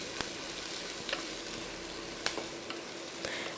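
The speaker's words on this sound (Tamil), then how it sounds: "அது நல்லா பொரிஞ்சோடனே ஒரு 3 பெரிய வெங்காயத்தை கட் பண்ணி அதை சேர்த்துருக்கேன்." Sliced onions sizzle steadily in hot oil with cinnamon, fennel, cardamom and cloves for a Tamil-style mushroom biryani, a dense continuous frying hiss with a few faint stirring clicks.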